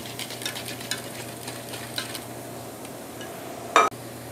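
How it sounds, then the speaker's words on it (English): Melted butter whisked into sourdough waffle batter in a bowl, with light, rhythmic scraping strokes, then one sharp metallic clank near the end. No one speaks. "We'll dump that in and whisk that in."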